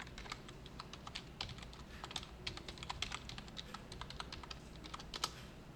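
Someone types a login on a computer keyboard, producing a quick, steady run of soft key clicks at close range over a quiet room hum, with no talking.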